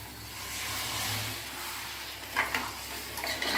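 Country chicken curry is stirred in a pressure cooker after water is added, a soft hiss and sizzle with scraping spoon strokes growing louder and clattering near the end.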